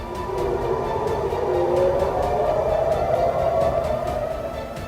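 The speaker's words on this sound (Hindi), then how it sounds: "यमन से दागी गई मिसाइल के बाद तेल अवीव में अलर्ट सायरन बजा।" An air raid alert siren in Tel Aviv, sounding after a missile launch from Yemen, wails steadily at full volume, its tone swelling and slowly rising, with no voices over it.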